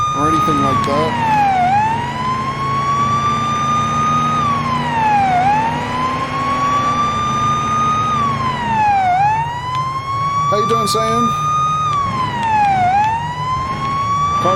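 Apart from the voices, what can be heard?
police car siren in the video game Police Simulator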